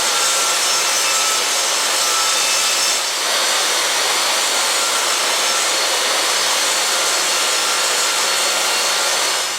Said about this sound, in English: use my table saw to cut the plywood into the appropriate size and lengths